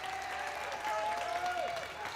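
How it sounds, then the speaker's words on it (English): Crowd applause fills a netball arena during England v Scotland, a steady dense round of clapping that holds evenly for about two seconds, with a faint voice running beneath it. "Warm round of applause both for Turnbull and for Matilda Smythe coming on."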